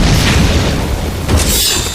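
Grenade explosion in the video game Fable 3: a loud, close booming blast with rumbling low end and scattered debris crackle, fading into a hissing tail.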